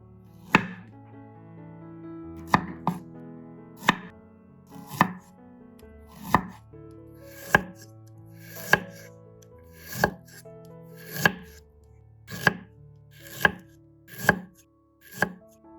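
A knife slices ginger steadily on a cutting board, about a dozen crisp, evenly spaced knocks, close and clear with no talking.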